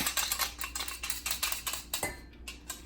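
Knife scraping minced garlic on a cutting board for marinara, a quick run of about a dozen light, rhythmic scrapes and taps, close and clear, with no talking.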